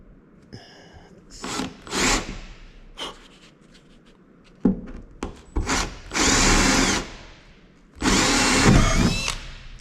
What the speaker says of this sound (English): Nothing like drilling a hole in a perfectly good roof.